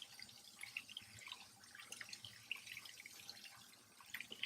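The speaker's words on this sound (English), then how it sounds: "And I just rinse those in the strainer." Loose fly-tying feathers rinsed in a strainer under running water, a faint, uneven trickle and patter of water splashing through the mesh, quiet and close with no talking.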